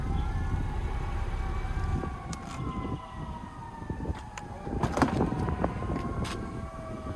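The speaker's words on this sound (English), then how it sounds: "And I apologize for the sirens in the background." Emergency vehicle sirens wail from a distance behind a steady road and cabin rumble, their rising and falling tones drifting through the background while no one speaks.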